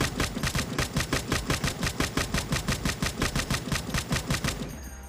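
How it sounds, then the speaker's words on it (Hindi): Rapid automatic gunfire in the video game Grand Criminal Online, a long even burst of about thirty shots at a fast regular rhythm, loud and close, ending abruptly. "चलिए फायर करते हैं"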